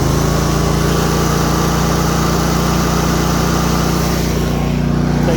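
Cub Cadet RZT 50-inch zero-turn riding lawn mower engine running steadily at high revs, a loud, continuous drone close by with no talk.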